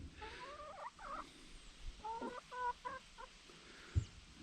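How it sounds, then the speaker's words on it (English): Rudy, a big homestead rooster, lets out a series of faint, short clucks and squawking calls at irregular intervals, with a soft thump near the end. "Big old Rudy rooster."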